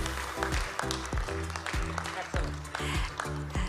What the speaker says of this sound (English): please give applause to our cooperations in Indonesia, Latin America, and the Caribbean countries